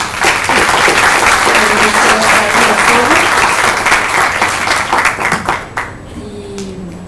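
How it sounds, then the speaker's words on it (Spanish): Loud audience applause thanking a speaker after a university lecture on engineering and society, vigorous clapping from a crowd for several seconds that thins and fades toward the end. "Bien, entonces le agradecemos con un aplauso."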